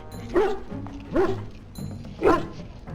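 A large dog in the video game Dragon Age Origins gives three deep, spaced barks over a low ambient hum.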